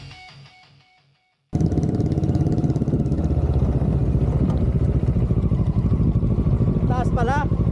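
Motorcycle engine running steadily and loud during an adventure ride, a continuous close drone with clatter, starting abruptly after a quiet moment, with a person talking over it.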